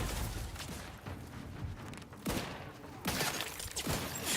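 Video game combat with dense bursts of blasts and gunfire, several sharp heavy booms standing out around the middle and end against a continuous loud clatter.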